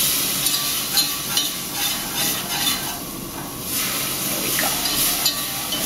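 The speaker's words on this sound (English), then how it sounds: "And now we are going to slowly pour the milk." Cold milk poured slowly into a hot roux in a pan for a cheesy béchamel, giving a continuous close sizzling hiss with some stirring and bubbling throughout.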